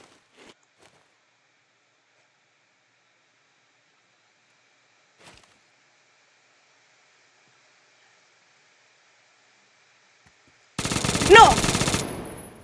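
Automatic gunfire in the Phantom Forces shooter game: near silence with a couple of faint clicks, then a loud sustained burst of rapid shots near the end.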